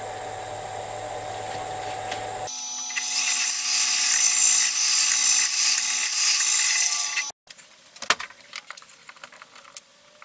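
A drill bores through the bottom cylinder cover of a Stuart Turner No. 8 model mill engine, a steady loud high whine for several seconds that stops abruptly, followed by quieter clicks and handling of metal parts.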